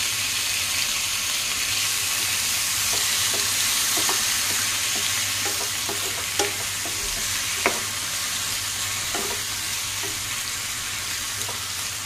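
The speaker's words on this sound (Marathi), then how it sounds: "आता हे आपण मिक्स करून घेऊया।" Sliced potatoes fry in a pan under a steady, loud sizzle while a spoon stirs them, scraping and clicking irregularly against the pan; no talk.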